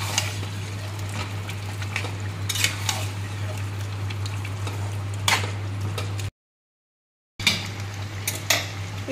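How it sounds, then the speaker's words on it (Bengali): Masala for a simple home-style chicken curry sautéing in a pan, a steady close sizzle with occasional clinks and scrapes of a utensil against the pan, a low hum underneath, and a brief silent gap partway through. "চিকেন কারি রান্না হচ্ছে, এই যে মশলাটা কষাচ্ছি"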